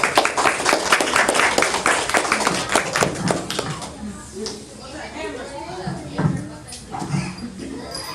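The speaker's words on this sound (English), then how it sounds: "one more round of big applause to the kids" A crowd claps steadily in dense applause for children after a performance at a cultural center, gradually thinning out and fading, with a few voices and scattered claps near the end.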